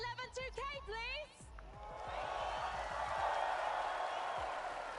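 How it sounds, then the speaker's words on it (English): Large arena crowd at a Fortnite championship event in Copenhagen's Royal Arena lets out a broad, sustained cheer that swells and holds loud, following a stretch of amplified talk from a host. "The cheer was all right, guys"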